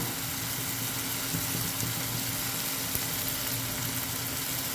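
Pork with curry leaves sautéing in a pan of fat, a dense, continuous sizzle and crackle, close and steady throughout with no speech.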